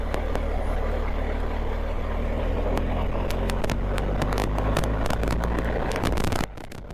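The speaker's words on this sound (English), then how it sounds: "I'm not too crazy about the sound of the engine" A BMW R1250GS Adventure motorcycle engine runs steadily on the road, its rumble mixed with heavy wind buffeting and crackling noise before cutting off near the end.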